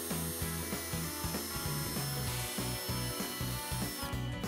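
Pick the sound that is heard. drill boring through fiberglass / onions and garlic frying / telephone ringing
drill boring through fiberglass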